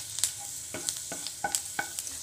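Chopped garlic, four cloves, cooks in butter in a pan, giving a soft sizzle broken by several short scraping stirs of a utensil, close up and without speech.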